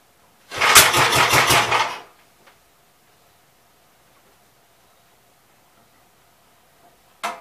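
A 1959 Gravely LI tractor engine cranks with rapid rhythmic firing pulses for about a second and a half, then cuts out into near silence before a short burst returns at the end.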